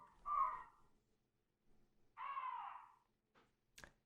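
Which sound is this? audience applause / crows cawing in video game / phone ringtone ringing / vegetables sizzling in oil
crows cawing in video game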